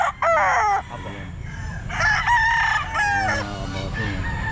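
Dutchman-breed rooster crowing at a busy pet market, several loud, drawn-out crows in quick succession close by over a steady crowd murmur.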